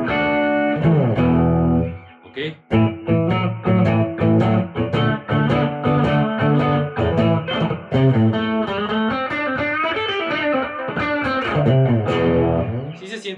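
Charvel So Cal Style 2 ash-body electric guitar with Fluence pickups, played on a clean classic tone without distortion: a steady run of picked notes and chords, loud and close, with a brief spoken word near the start.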